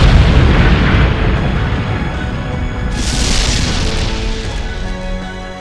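A fluid sakuradite explosion in an anime battle: a loud, sustained rumbling boom that rolls on for several seconds and then swells with a hissing, crackling burst before slowly fading.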